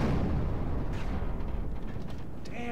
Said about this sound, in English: damn catapults? Damnation's going on here. They're firing them faster than I can even